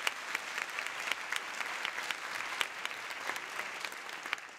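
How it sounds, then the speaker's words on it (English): Audience applause at a university convocation ceremony fills a large hall, a steady dense patter of many hands clapping at moderate distance with no voices over it. "let's give a round of applause for Linda."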